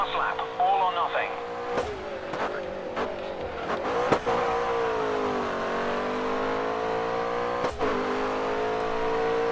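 Race car engine in the racing game GRID Autosport drones steadily throughout, with pitch sweeping up and down through gear changes and cornering on a final lap, loud and continuous under someone talking.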